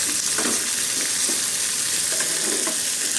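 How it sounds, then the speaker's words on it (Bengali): Bitter gourd fries with nigella seeds in a pan at home, a loud, close, continuous sizzle broken by soft stirring scrapes. "কি আওয়াজটা পাচ্ছ? এই দেখো উচ্ছে ভাজা।"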